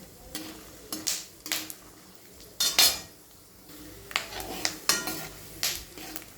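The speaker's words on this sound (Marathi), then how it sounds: "थोडंसं हालून घेऊया तेल गरम झाल्यावर शेंगदाणे टाकलेत आपण" Peanuts stirred in hot oil in a pan for nylon poha chivda, with a run of scraping, clinking spoon-on-metal strokes over a faint sizzle, close and fairly quiet.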